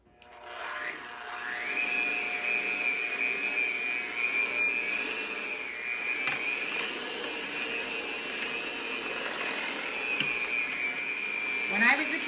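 An electric mixer runs steadily, mixing wheat with cooled milk and butter, its constant motor whine holding for the whole stretch with soft scraping in the bowl and a brief clatter near the end.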